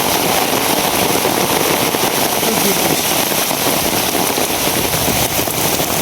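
Heavy rain pours down steadily and loudly at a village home, a dense unbroken hiss with scattered sharp drop impacts throughout.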